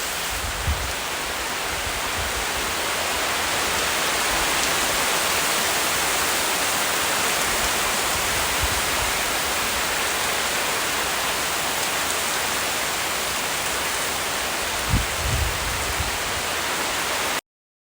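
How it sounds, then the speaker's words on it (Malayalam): Heavy rain pours steadily, a loud, even hiss of falling water that continues throughout, with a few soft low thumps. "മഴയൊക്കെ കണ്ട് മഴയുടെ സൗണ്ട് കേട്ട് ചായ കുടിക്കട്ടെ"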